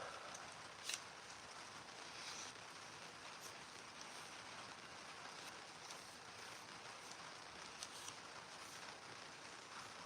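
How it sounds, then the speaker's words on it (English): Rain falls at night in Mississippi, a steady faint hiss of drops with a few scattered louder taps and no talk. "I hear the rain."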